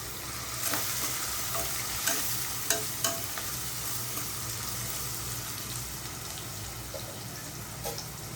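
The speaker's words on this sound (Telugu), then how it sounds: "ఉల్లిపాయ ముక్కలు అలా ఏగుతూ ఉండగానే ఒక టీ స్పూన్ సాల్ట్ కొద్దిగా పసుపు ఒక టీ స్పూన్ కారం" Onion pieces fry in a pan with salt, turmeric and chili powder for a gongura meal maker curry: a constant close sizzle broken by a few sharp clicks of a stirring spoon, with no voices.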